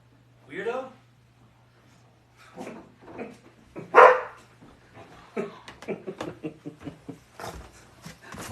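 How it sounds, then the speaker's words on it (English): A dog indoors gives several short barks and yips at intervals, one sharp louder bark standing out midway, over a steady low background hum. "Fucking weird dog."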